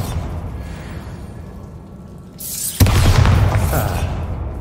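Bombarda blasting spell in Hogwarts Legacy: a rising whoosh sweeps in over rumbling ambience, then a single loud, close explosion booms and rolls on in a sustained roar.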